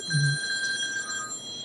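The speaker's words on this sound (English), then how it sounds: "It's ringing, but it's really a text message." A phone gives a short electronic ring for an incoming text message, a steady bright chime that sounds close and clear for under two seconds.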